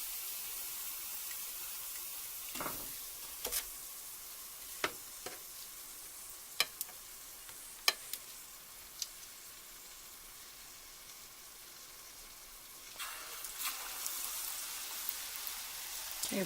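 Corn dogs frying in hot oil give a steady, faint sizzle and crackle, broken by occasional clicks and taps of a utensil near the pot, with a stronger bubbling burst toward the end and no talk.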